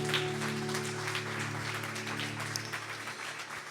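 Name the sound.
congregation applauding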